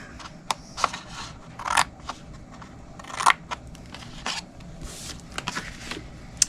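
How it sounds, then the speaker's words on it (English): Scissors snip through card stock up to a score line, making a string of crisp, close cuts and rustles at an uneven rhythm with no voices. "we're going to cut both sides to the first score line and then wedge it"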